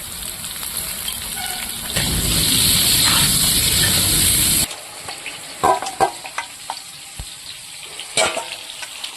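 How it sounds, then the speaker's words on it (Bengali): Potatoes frying with turmeric and salt in a pan, a loud steady sizzle for a few seconds, then quieter crackles and scattered stirring clicks. "হলুদ লবণ দিয়ে ভাজলে ঠিক হয়ে যাবে"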